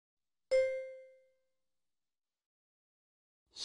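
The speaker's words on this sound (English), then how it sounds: "Computer phone, call Captain Spacely" A synthetic computer phone calling effect in a children's space cartoon, with one bright chime tone that rings out and decays, followed by silence and the start of a second tone.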